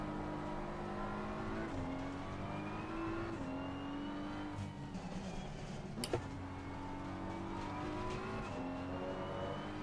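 BMW M4 GT3 race car engine in Assetto Corsa Competizione, a steady high drone that steps through repeated downshifts with blips, close and loud, plus a sharp knock midway.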